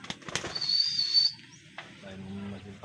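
Racing pigeons in flight at a veterans' competition in San Antonio, Nueva Ecija, give a brief rush of wing flapping overhead amid outdoor voices.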